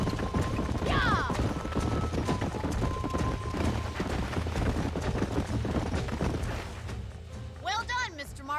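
Horses' hooves clip-clopping steadily in Red Dead Redemption on Xbox 360, a continuous rhythmic clatter in a busy outdoor scene, with people talking over it.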